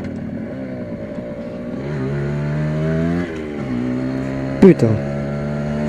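A 1979 Yamaha FS1 50cc moped with a four-speed gearbox is ridden on the road. Its close, steady buzzing engine drone rises and falls slightly in pitch, and a brief loud thump and a spoken exclamation come near the end.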